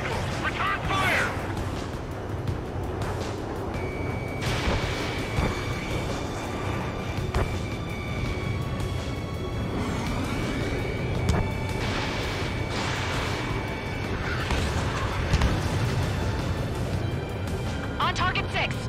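Missile fire and explosions in an Ace Combat 7 aerial battle, heard as a continuous dense rumble of blasts and jet noise with steady tonal alarm-like tones, voices talking over it throughout.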